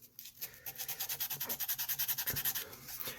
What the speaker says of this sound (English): I got my sandpaper on my thumb and I'm doing this on the surface